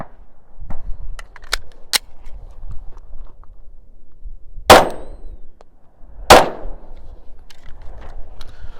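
Two loud, sharp gunshots from a Glock 43X firing light +P ammunition at an outdoor steel target, spaced about a second and a half apart, with quieter clicks and faint clinks around them.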